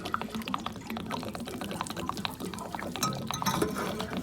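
Water draining and gurgling out of an RV water heater after the pressure-relief valve is opened, a steady splashing pour with small clinks and bubbles throughout, fairly close and without speech.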